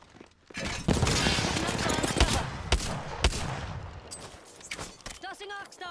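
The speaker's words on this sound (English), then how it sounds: "Something's shooting at me." Gunfire in the video game Apex Legends, with rapid bursts and sharp individual shots crackling over a dense battle din, while a character voice speaks intermittently throughout.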